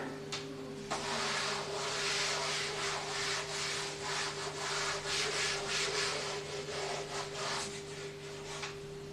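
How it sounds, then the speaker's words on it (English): Writing is rubbed off a board with a duster in repeated back-and-forth scrubbing strokes, close and rhythmic, over a steady electrical hum. "Okay, I am rubbing this one."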